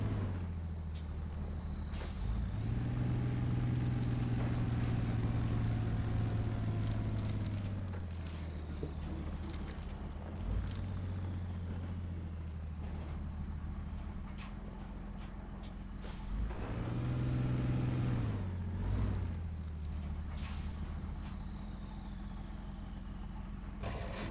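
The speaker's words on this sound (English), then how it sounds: "we'll turn this truck around, put it parking back on the road" A truck in the video game Spin Tires revs and maneuvers while turning around, its engine droning with repeated rises and falls in pitch and occasional hissing bursts, steady and fairly close with no talk.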